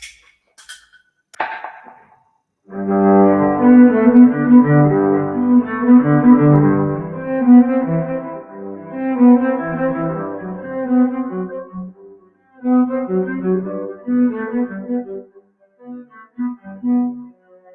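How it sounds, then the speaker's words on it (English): A low, bowed violin melody run through an octave pedal, giving a deep cello-like tone, played steadily and close, with a few brief pauses near the end. "I could play the violin as if it was a cello"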